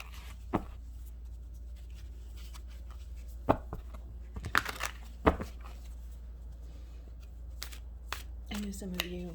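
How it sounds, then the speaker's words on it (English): Soft riffling and flicking of tarot cards being shuffled in quiet bursts, with scattered taps and rustles close by and a low steady hum underneath. "why do I shuffle the cards 3 times?"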